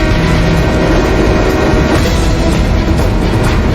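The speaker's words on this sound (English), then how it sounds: "a freight train passes dangerously close to the blaze" A freight train rolls past close by a burning warehouse in North Platte, Nebraska, its loud, steady rumble and rattle filling the short stretch without a break.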